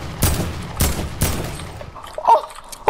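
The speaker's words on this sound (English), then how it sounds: "Wait, I shotgunned him!" Three sharp, booming shotgun blasts in Fortnite ring out at a steady pace, followed by a fainter thud, with no talking.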